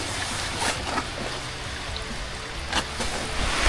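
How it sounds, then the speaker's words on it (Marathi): Heavy rain pours steadily during a descent from Mangad fort, a dense, even wash of broadband noise with no talk, close and continuous. "पाऊस खूप जोरात पडतोय"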